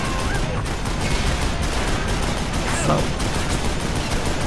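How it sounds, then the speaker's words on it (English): Continuous dense Gatling gun fire in Call of Juarez: Bound in Blood, a loud unbroken roar of rapid shots with crashes mixed in, and someone briefly speaking over it. "So the Gatling guns overheat, so you don't want to just hold your fire continuously"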